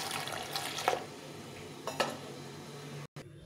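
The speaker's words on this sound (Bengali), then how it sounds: "এখন ডালটাকে ধুয়ে নেব ভালো করে, একটু ভালো করে ধুয়ে নিতে হবে।" Lentils are rinsed in water in a pot, with faint sloshing, a few soft splashes and light clinks of the vessel in a quiet kitchen.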